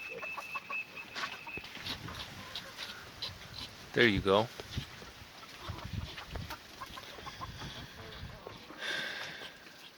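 Chickens and fowl in a coop shared with pigs, with brief clucking and a louder rooster-like call rising for a moment, under ongoing close talk and farmyard background.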